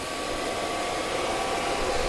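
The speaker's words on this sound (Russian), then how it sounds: "Включили вентиляторы у 2-киловаттника." The cooling fans of a 2 kW PCP air compressor give a constant, even whirring rush like a hair dryer. It runs close and unbroken, with no voices.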